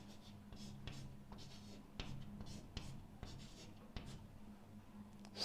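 Chalk or marker writing on a board during a basic maths lesson, a steady run of scratchy strokes with sharper taps at intervals, close and fairly loud, with no talk over it.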